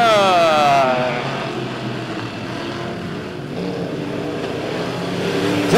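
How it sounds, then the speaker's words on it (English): Midwest modified race cars roar off at the start of a heat race at Lebanon Midway Speedway: loud, sustained engine noise with rising and falling revs, a pack of cars close by and swelling again near the end. "Lights are off around the mighty Midway Speedway. It's time to kick off the Tony Roper Memorial. Green flag in the air"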